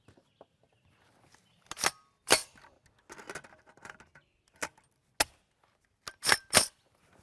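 A 5.7x28mm Hornady Critical Defense 40gr FTX cartridge is forced into a P90 after a failure to feed, giving a few quiet, sharp metallic clicks and scrapes spread across several seconds, with near silence between them.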